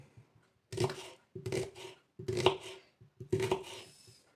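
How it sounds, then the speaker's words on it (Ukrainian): Knife chopping onion finely on a board in four short bursts of rapid cuts separated by brief pauses, close and clear with no talking. "Нарізаю цибульку"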